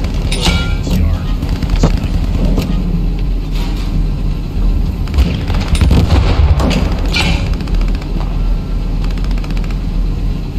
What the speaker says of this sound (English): Sounds like a sniper, that Springfield.